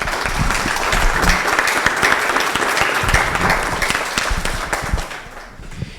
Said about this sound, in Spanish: pedirles a todos un aplauso para ellos también